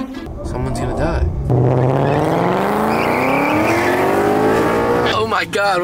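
A Ford Raptor truck street racing roars as its engine revs up through a long rising pitch, loud and close, with excited voices shouting over it before and after.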